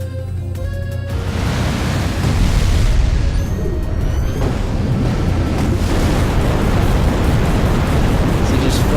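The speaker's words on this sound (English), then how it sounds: "I'm gonna fire off a Z move" A Pokémon Z-move attack effect in a video game battle, heard as a loud, sustained roaring whoosh of dense noise like an eruption or surging wind that fills the whole stretch without a break.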